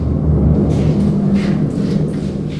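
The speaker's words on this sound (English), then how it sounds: "That's the sound of trains going over the bunker." Trains rumble overhead above an underground bunker shelter, a loud, continuous low roar with faint hissing swells on top and no talking.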